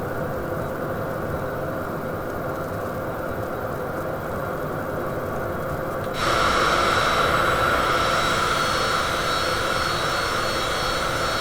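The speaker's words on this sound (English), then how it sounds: "Well, that was a pretty good climb out, wasn't it?" A small airplane climbing out after takeoff on a flight to Elizabethton, Tennessee airport, its engine giving a steady, loud drone inside the cabin that steps up noticeably louder about halfway through and then holds.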